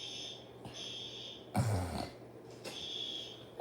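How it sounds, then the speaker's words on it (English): A hotel fire alarm sounds in repeated high-pitched electronic tones, quiet and somewhat distant, broken by a short burst of nearby noise in the middle. "The fire alarms are going off."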